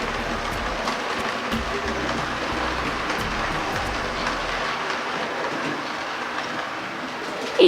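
Hattons P Class model locomotive 'Bluebell' hauling a rake of three BR maroon Mark 1 coaches, a steady rolling rumble with faint rhythmic rail clicks running throughout, no voices.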